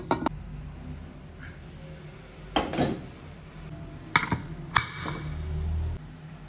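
A lid is set on a pressure cooker holding mutton and water for mandi, giving several sharp metallic clanks and knocks spaced out over the stretch, followed by a brief low rumble.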